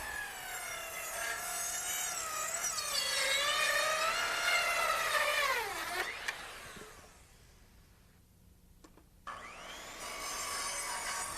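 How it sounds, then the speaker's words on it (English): A power saw rips through treated lumber for a terrace deck, its blade set at an angle; a loud, steady whining cut runs for about six seconds, stops, then a second cut starts up near the end. "you can see that I had to angle my saw blade to make these cuts"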